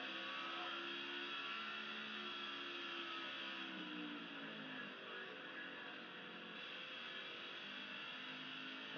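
Race car engines in the NASCAR 15 Victory Edition video game at the Sylvania 300, a steady loud whirring roar of several cars at speed with shifting engine pitch, continuous throughout.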